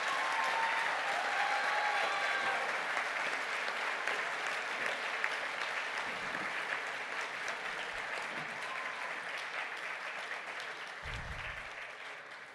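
Sustained applause from a graduation ceremony audience greeting applied freshwater and marine biology graduates, a steady dense clatter of many hands at moderate distance, holding throughout and gradually fading slightly toward the end, with no talk.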